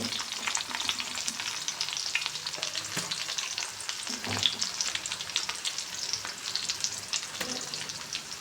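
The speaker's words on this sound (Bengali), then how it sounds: "এখন দিয়ে দিচ্ছি আদা রসুন বাটা।" Ginger-garlic paste sizzles in a pan with browned onions, whole garam masala and bay leaves, a steady close frying hiss with light stirring scrapes, no voices.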